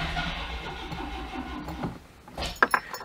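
An Oltcit car with a struggling jump pack cranks its engine in a labored, close rumbling whir that slows and fades, followed by a few clicks and a jangling clatter.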